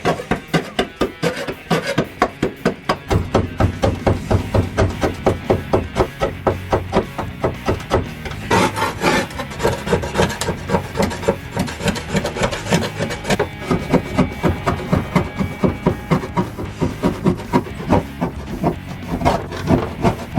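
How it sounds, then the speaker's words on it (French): Close and loud, a power sander works on stubborn old tile glue on a camper van wall, a continuous rough grinding rasp with a fast, regular pulsing rhythm throughout. "On va essayer de l'enlever avec une ponceuse là, en espérant que ça fonctionne."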